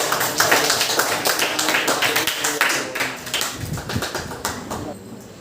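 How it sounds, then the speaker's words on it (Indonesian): Applause breaks out from a classroom audience for a student group presenting during a teaching practice session, a dense run of many hands clapping that holds steady and then tapers slightly toward the end. "Ya, tepuk tangan untuk kelompok."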